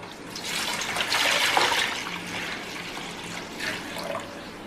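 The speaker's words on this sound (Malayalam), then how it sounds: "ഇതിലേക്ക് നമുക്ക് കുറച്ച് വെള്ളം ഒഴിക്കാം." Water pours steadily into a pot set up for steaming stuffed chicken, a soft continuous rush that swells and then eases toward the end, with no talking.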